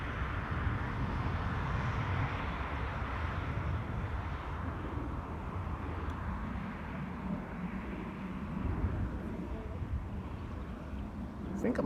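A wide-body twin jet passing overhead at Schiphol airport, a low continuous engine roar and rumble held steady throughout at moderate distance, with outdoor ambience and no clear speech.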